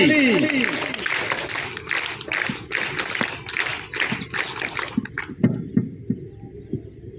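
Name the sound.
applause, group clapping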